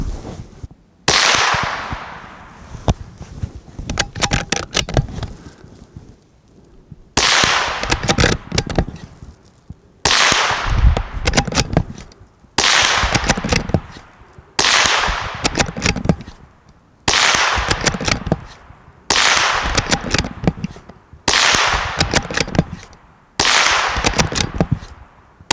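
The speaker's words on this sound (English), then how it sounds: "Here's a Ruger American Rimfire function test." A Ruger American Rimfire rifle is fired repeatedly in a function test: about nine sharp, loud shots spaced every two to three seconds, each followed by a decaying echo, with no speech.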